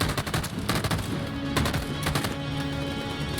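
Sustained automatic gunfire in the video game Detroit: Become Human, a dense rapid rattle of shots that continues without pause for a few seconds, loud and close with no voices.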